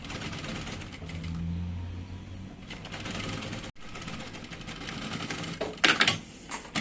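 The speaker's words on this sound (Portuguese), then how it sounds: "vou costurar um pezinho de máquina" Sewing machine stitching a closing seam on a fabric double baby-bottle holder, a steady mechanical whir running in bursts with brief pauses and a short sharper clatter near the end.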